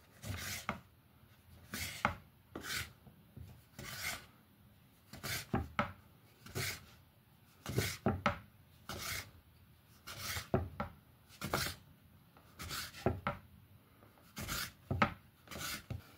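A knife slices through rolled-up homemade pasta dough on a board, about twenty crisp, evenly paced cuts, each a short rasping chop, close and clear with near silence between them.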